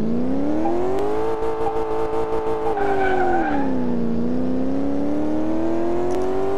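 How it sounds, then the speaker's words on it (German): A car in the Car Mechanic Simulator video game accelerates on a track, its engine whining steadily and rising and falling in pitch, loud and close, with a brief tire squeal in the middle. "Wir geben mal Gas."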